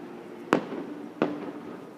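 Fireworks at a Swiss National Day celebration, heard as two sharp, distant bangs about a second apart over a low background murmur.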